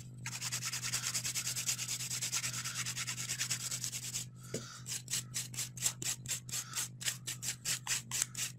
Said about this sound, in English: a little bit of quick finish filing with the 240 grit file because it just leaves such a beautiful surface